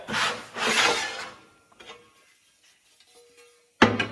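A metal shear works an auger mounting plate in a shop, giving two loud grinding, rasping strokes, a few faint clicks and scrapes, then one sharp clunk at the end, with no talk.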